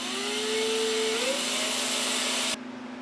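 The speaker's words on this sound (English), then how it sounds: "Now, I'll take my drill and clamp it down on here." A power drill whirs steadily at a low, constant speed with a rising whine partway through, then cuts off abruptly near the end.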